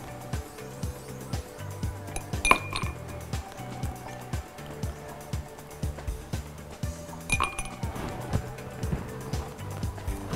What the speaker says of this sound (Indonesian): Akan lebih segar lagi kita beri es batu ya.